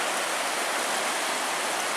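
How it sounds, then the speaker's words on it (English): Steady broadband rush of the East Branch Baptism River flowing along a muddy hiking trail after overnight rain, a continuous close water roar with no pauses or voices. "East Branch Baptism River."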